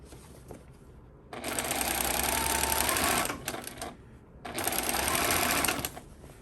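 A sewing machine understitching a skirt facing runs in two steady, whirring bursts of fast needle stitching, each about two seconds long, separated by a short pause, heard up close with no speech.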